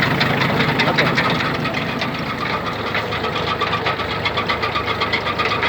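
Mitsubishi MT2201 mini tractor, a 22-horsepower two-wheel-drive rear-drive model, with its engine running in gear, giving a steady loud close diesel clatter and knocking rumble that continues throughout.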